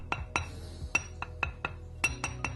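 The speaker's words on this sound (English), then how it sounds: "A stable and undamaged wheel, when tapped, will give a clear metallic tone or ring." A series of light, sharp taps with a non-metallic instrument on an undamaged abrasive grinding wheel, each giving a brief clear metallic ring, repeated irregularly about eight times at close range.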